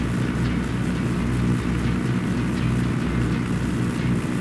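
A helicopter in the Ghost Recon Wildlands video game gives off a steady, loud rotor and engine drone that holds unbroken throughout.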